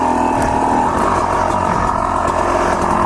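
Motorbike engine running on a dirt trail, a loud, steady mid-pitched drone that holds close throughout with slight revving, no voices.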